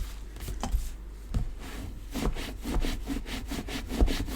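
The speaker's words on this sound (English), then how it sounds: "I'm just going to rub the back just with my bone folder now" A bone folder rubs back and forth across the back of a glued paper card in quick, rhythmic scraping strokes, close and fairly soft.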